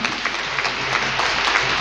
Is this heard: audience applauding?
yes